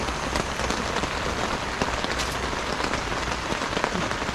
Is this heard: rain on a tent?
yes